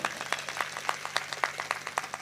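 An audience at a Devi Bhagwat Katha religious discourse claps, a quick steady run of sharp hand claps from a modest crowd, close and fairly loud.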